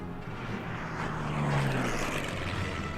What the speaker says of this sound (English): I could just throw one of the recon planes up there.